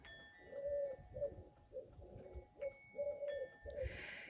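Pigeons or doves cooing in repeated soft phrases outdoors, close and fairly quiet, with faint higher chirps and a brief rustle at the end.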